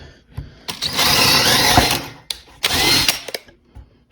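A power drill fitted with a fairly large bit bores drainage holes in a strawberry planter, giving two loud whirring bursts: one long run followed by a shorter one, with quiet gaps between.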